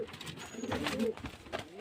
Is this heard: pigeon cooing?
yes